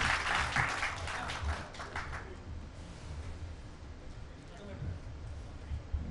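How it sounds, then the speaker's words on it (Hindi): Applause for a government minister at an event, clapping from the audience heard at a distance in the first seconds then thinning into room murmur, with faint voices around it. "जोरदार तालियां मंत्री जी के लिए"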